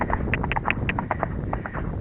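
A horse canters uphill on a track during pre-training, with quick, steady three-beat hoofbeats drumming close against light wind noise.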